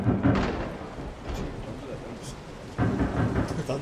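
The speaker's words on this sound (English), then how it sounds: "Thunder." Rumbling thunder inside the horror video game Resident Evil 7, with low rolling bursts at the start and again near the end over a quieter stretch of rain-like background.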